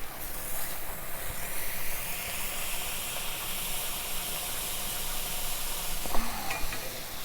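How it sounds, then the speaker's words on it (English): A smashed beef burger patty sizzles hard on a hot griddle, a dense, steady hiss held close and loud with a brief scrape near the end. "Flip it and smash it."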